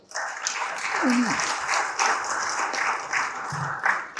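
Audience applause at a business conference on technology and sales growth, a steady dense round of clapping filling the room, with a brief voice rising over it near the start.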